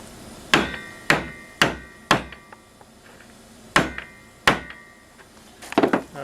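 A ball peen hammer strikes metal tabs on a homemade moonshine still, six sharp ringing blows in two uneven groups, each with a short metallic ring, followed by a few light taps.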